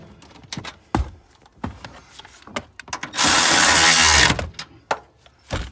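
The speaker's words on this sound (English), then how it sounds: "And then we'll just finish off by tightening up these top nuts." Top nuts on the rear coilovers of a Subaru WRX STI being tightened, with sharp mechanical clicks and knocks scattered through, then a loud steady burst of a power tool for about a second near the end.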